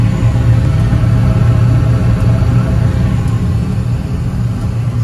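A gas-fired unit heater burner fires and runs as a steady, loud, close broadband roar with a low rumble, holding constant throughout without breaks.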